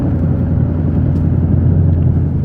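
Ford Mustang, either a Shelby GT350 or a 10-speed Mustang GT, carrying two people and pushed hard through corners, giving a loud, steady low engine rumble heard from inside the cabin with no talk.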